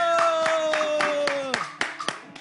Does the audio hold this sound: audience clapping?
yes